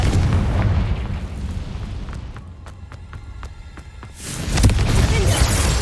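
The Confringo fire spell in Hogwarts Legacy erupts as a loud fiery blast, with a rumbling burst at the start, a quieter stretch of sharp cracks, then another forceful explosion near the end.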